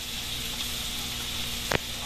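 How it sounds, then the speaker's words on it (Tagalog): Garlic sizzling in butter in a pan, a steady dense frying hiss throughout with one brief sharp crackle near the end. "at nilagay na rin po ni Mama yung bawang"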